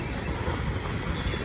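Union Pacific manifest freight cars, including old Missouri Pacific gondolas, hoppers and a freezer boxcar, roll past at Cajon Pass with a steady, close low rumble of wheels and rail noise, no voices.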